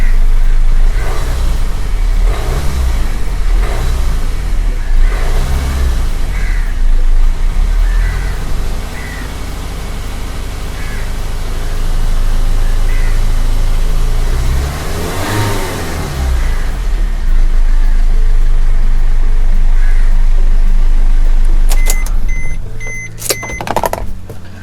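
A Maruti Swift car engine revs under throttle after an engine flush, loud and close, rising and falling repeatedly over a steady idle.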